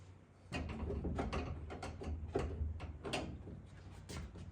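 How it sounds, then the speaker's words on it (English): Screws being driven back into an interior panel of an LS-swapped Camaro, a run of short, close mechanical clicks and turning ratchety sounds in an uneven rhythm, with no talking. "Let me just put all our screws back in."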